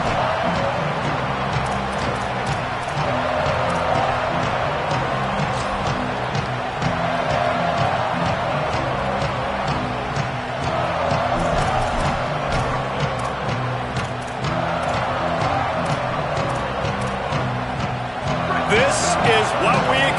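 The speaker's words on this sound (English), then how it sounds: "This crowd ready to make its presence known." Video game football stadium crowd roaring steadily throughout, a dense continuous wash of cheering with scattered shouts, while a commentator's voice talks over it.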